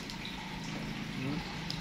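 Water runs from a tap in a steady, moderately quiet stream, a continuous gurgling flow with low rumble beneath.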